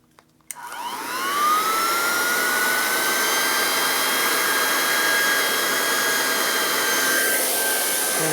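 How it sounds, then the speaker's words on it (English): A large heat gun switches on with a click and then blows a steady, loud, whooshing roar with a rising whine, run close by to warm a Harley-Davidson FXR piston in a top-end repair. "One big ass heat gun."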